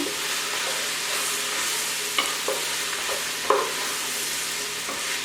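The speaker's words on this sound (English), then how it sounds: "Pepper cabbage, I've been stirring it the whole entire time." Cabbage with pepper fries in a pan under a steady, close sizzle, while a utensil stirs and scrapes it in a few distinct clicks and knocks scattered across the few seconds.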